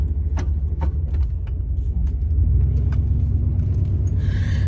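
An old, long-abandoned Chevy drives down the road, its engine giving a loud, steady low rumble heard from close by, with scattered rattles and clicks over the top.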